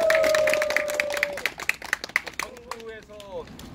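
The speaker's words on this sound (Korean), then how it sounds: "국회장님께 감사의 박수 한번" A small group of hikers claps in thanks for their club chairman, scattered individual claps ringing out over talking voices, starting loosely and thinning toward the end.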